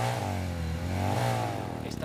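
A motorcycle engine runs close by at a steady mid-pitched drone that swells and eases slightly, as if revving gently, with no clear talk over it.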